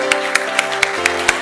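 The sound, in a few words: audience applause for the pastor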